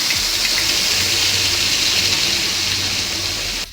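Ground coriander paste spluttering loudly in hot oil for chutney, a dense continuous sizzle and hiss heard up close without a break, cutting off abruptly at the end.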